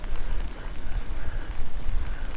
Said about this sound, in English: The only problem is we're getting rain,